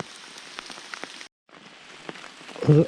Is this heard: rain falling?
yes